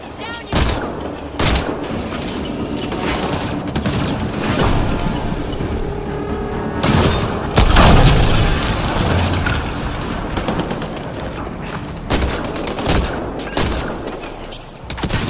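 A Mass Effect Andromeda firefight: rapid bursts of gunfire and sharp cracks with a heavy grenade blast near the middle, dense and loud, with brief pauses between volleys.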